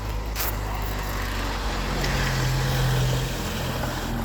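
A car rolls by close at hand with a low, steady engine rumble that swells briefly toward the middle before easing off.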